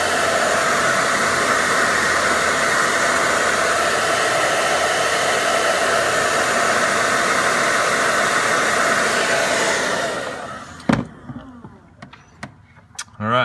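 Heat gun blowing hot air onto heat shrink tubing over wires during a Polaris RZR 1000 repair, a loud steady whoosh for about ten seconds that cuts off, followed by a few sharp clicks and handling noises.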